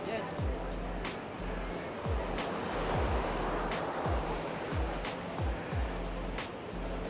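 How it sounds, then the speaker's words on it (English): Ocean surf at Bingin Beach in Uluwatu, Bali, washes and rushes steadily, with wind buffeting the microphone and a series of soft low thumps throughout. "Bingin Beach, Uluwatu, Bali. So beautiful."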